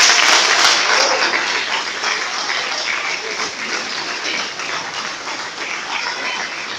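A church congregation at a family worship service bursts into loud, dense applause, strongest at the start and easing slightly while staying full and continuous, with no talk on top.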